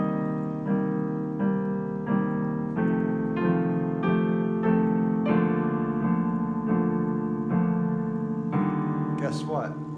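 Piano plays jazz chords: a steady sequence of sustained, ringing chords struck one after another at an even pace, clear and close, with a voice faintly audible near the end.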